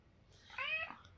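A cat gives a single short meow with a rising-then-falling tone, fairly quiet and close, lasting under half a second against a hushed room.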